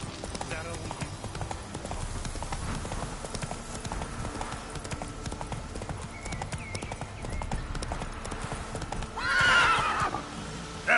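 Roach, a horse in The Witcher 3, gallops with rapid rhythmic hoofbeats and a whinny near the end, while voices talk and game sounds play over them.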